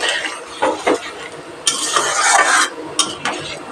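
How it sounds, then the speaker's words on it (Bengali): A spoon stirring rohu fish curry in a pot after hot water is poured in, scraping and sloshing in a few bursts, with a longer, louder stir near the middle. "আন্দাজ মতো গরম জল অ্যাড করে মিক্স করে দেব"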